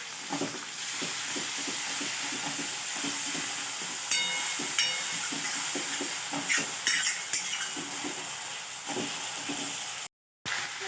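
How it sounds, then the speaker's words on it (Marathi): Masala with garlic fries in a hot pan with steady sizzling throughout, with occasional scraping and clinking of a utensil stirring, briefly cut off near the end. "यालाही दोन मिनटं आपण मस्तपैकी फ्राय करून घेऊ"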